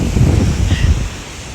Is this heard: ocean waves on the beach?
yes